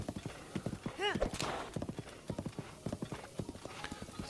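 Horse hooves clip-clop in a steady rhythm in the video game The Legend of Zelda: Breath of the Wild, with a brief whinny partway through and a person talking over the sounds.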